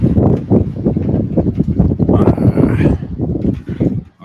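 Wind on a San Diego balcony buffets the microphone in loud, rapid gusts, with a brief fainter sound partway through.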